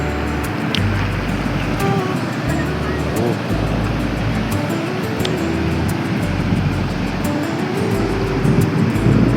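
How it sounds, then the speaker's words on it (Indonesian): Big waves breaking on the rocky Garut coastline, a steady broad roar of surf with rolling swells, loud and continuous throughout, with faint voices in the background. "Ombaknya gede-gede, bos."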